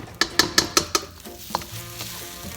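Eggs being scrambled in hot oil in a pan for Thai shrimp pineapple fried rice: a steady sizzle under five quick, evenly spaced scraping strokes of a utensil, then a lone clink and continued frying.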